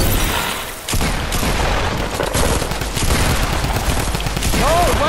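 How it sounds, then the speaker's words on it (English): Rapid gunfire bursts in a Fortnite Battle Royale squad match on PS4, loud and close, with dense overlapping shots and impacts sustained through the whole stretch. "No, why is he shooting me?"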